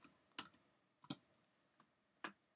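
Three sparse, crisp keystrokes on a computer keyboard, quiet and close, separated by short pauses in an otherwise still room.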